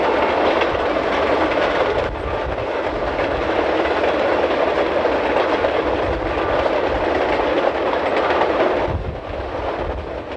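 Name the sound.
Alaska Railroad train running on the tracks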